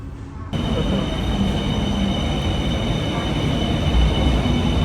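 A steady loud rumble of a moving train fills the whole stretch, starting abruptly and continuing evenly without a break.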